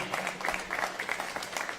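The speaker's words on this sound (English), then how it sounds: "A big round of applause for our Helping Hand Committee." A round of applause at a junior livestock show, a crowd clapping at moderate distance, fairly faint and even, with a few sharper claps standing out over the steady patter.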